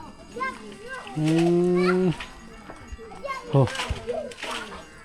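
Water buffalo grazing in grass in a rural hillside village give a loud, drawn-out low moo close by, with people and children talking around them.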